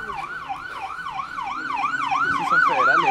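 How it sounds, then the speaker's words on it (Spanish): A wailing ambulance siren sweeps up and down repeatedly, growing steadily louder as it draws nearer on a highway in Mexico, with faint traffic rumble beneath. "Ahí viene una ambulancia, parece."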